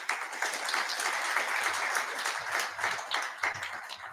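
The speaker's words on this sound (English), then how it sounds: "He deserves a better clap, really," An audience at a citizen assembly on debt and anti-corruption in Kenya applauds steadily, a dense, moderately distant wash of clapping lasting several seconds.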